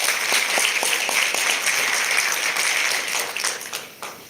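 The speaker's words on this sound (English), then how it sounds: "Please give yourself a big round of applause." Audience applause at a live DXN corporate event in Malaysia, led by CEO H C Teoh: dense, steady clapping from a large crowd that thins and fades out toward the end.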